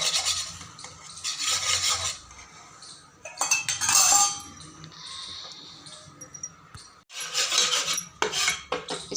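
Gram flour (besan) is stirred slowly in a pan over a low flame, giving repeated close scraping and rasping strokes in bursts with faint metallic clinks.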